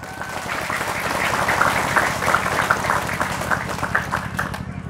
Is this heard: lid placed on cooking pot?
no